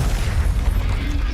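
Fiery spell blast from Hogwarts Legacy's Incendio, a dense rumbling burst of flame with low booming weight that carries steadily for over a second, loud and close with no talking.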